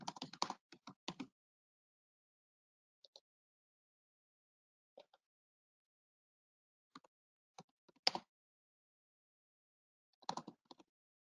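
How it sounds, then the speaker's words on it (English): Typing on a computer keyboard while entering a trading strategy condition: a dense burst of clicks at the start, then sparse, quiet keystrokes in small clusters across the rest of the stretch. "Let's type that in."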